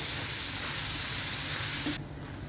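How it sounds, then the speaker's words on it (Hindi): Bottle gourd pulp seasoned with salt fries in a pan with a steady, dense sizzle that stays loud and even, then suddenly softens near the end. "इसे अब हम 2 मिनट के लिए अच्छे से फ्राई कर लेंगे"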